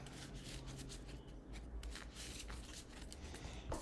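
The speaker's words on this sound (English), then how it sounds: "Shuffle your deck" A deck of playing cards being shuffled during a Smash Up Disney Expansion card game, a steady close riffling and rubbing texture running throughout with no talk over it.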